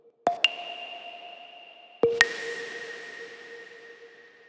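A synth bell run through an arpeggiator plays each note then its octave above in quick pairs, two bright pinging strikes, each pair ringing out with a soft sustained tail, alone and quiet.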